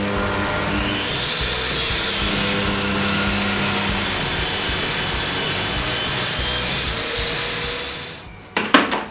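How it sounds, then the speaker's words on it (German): A table saw rips narrow strips from wood stock, a continuous loud whirring cut that rises into a high whine, then the blade winds down at the end followed by a few sharp knocks of wood being handled. "und die schneide ich mir aus dem gleichen Material zu, und zwar mit der Tischkreissäge."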